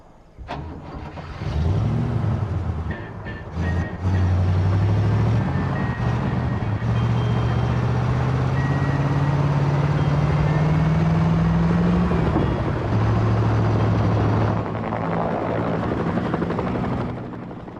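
A military vehicle in Battlefield: Bad Company starts up and drives, its engine rising to a loud, steady drone with shifting pitch and a few metallic clanks, continuous for the whole stretch with no talking.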